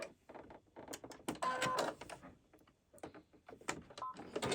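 A sewing machine stitching a fabric corner bookmark back and forth, with short mechanical whirring runs and pauses, close and fairly quiet.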